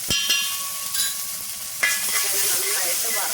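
Chopped ripe jackfruit sizzles steadily in ghee in a pan, a continuous close frying hiss broken by a few sharp scrapes and clicks of stirring.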